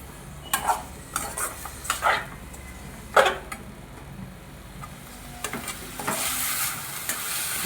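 Pepper chicken being stirred while it fries in oil in a small pan, with a handful of distinct scraping, clinking strokes of a spoon over a low sizzle, ending in a brighter hiss.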